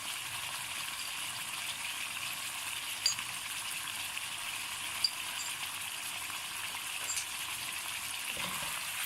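Creamy chicken karahi sizzles steadily in the pan as it is mixed, a constant even frying hiss with a few faint clicks from the utensil, close and moderate in level, with no talking.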